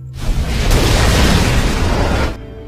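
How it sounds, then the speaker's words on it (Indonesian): A bomb explodes and destroys the hovercraft Nebuchadnezzar in a film, a loud, sudden blast that swells into a sustained roaring rumble for about two seconds before cutting off abruptly. "menjatuhkan bom yang akhirnya menghancurkan pesawat mereka"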